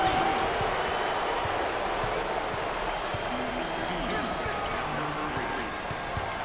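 A basketball arena crowd at a 2021 NCAA Tournament second-round game between Kentucky and Colorado State applauds and roars steadily after a made three-point shot, a dense, far-off wash with a commentator talking over it.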